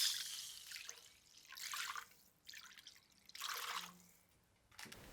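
Water poured from a cup into a pan while making flattened rice (aval) coconut milk payasam, coming in several separate splashing pours with short pauses between them.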